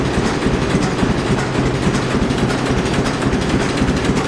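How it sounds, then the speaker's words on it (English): A 1948 John Deere AN tractor engine idles high with a steady, loud, close chugging rhythm that runs continuously and alone, with an exhaust leak adding rough puttering. "so it's actually idling high right now"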